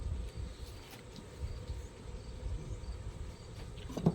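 Bees drawn to an outdoor cooking spot, where General Tso chicken is being made, keep up a faint, continuous insect hum with soft rustling and no one talking.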